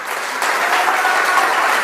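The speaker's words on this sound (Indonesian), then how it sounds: "Berikan sorak-sorai buat Tuhan." A church congregation gathered for worship bursts into loud, sustained applause, with enthusiastic cheering mixed in as the clapping quickly swells and holds steady throughout.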